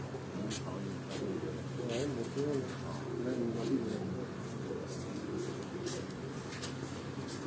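Pearl-eyed breed pigeons coo softly in a rooftop loft, low burbling calls running under a constant background hum, with light clicks and no clear speech.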